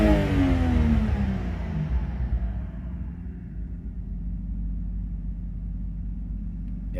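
A BMW E90 engine catches on start-up with a brief rev flare, then settles into a steady low idle rumble, close and continuous with no voices.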